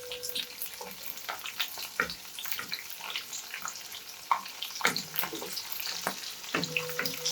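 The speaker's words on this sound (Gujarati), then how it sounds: "મરચાં અને લસણને થોડું આપણે તેલમાં ફ્રાય થવા દઈશું" Green chillies and garlic fry in oil in a pan, giving a steady close sizzle with scattered pops and crackles and a few sharper clinks.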